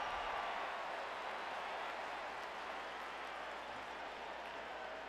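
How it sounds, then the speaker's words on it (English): Texas Longhorns fans in a stadium during a 2010 college football game against Oklahoma State, heard as a steady, distant wash of clapping and crowd noise that stays faint and even throughout. "The horns are clapping."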